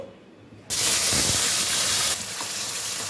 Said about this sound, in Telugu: అది ఆయిల్లో మసాలా వేసుకున్నాను. ఇది ఫ్రై చేసుకోవాలి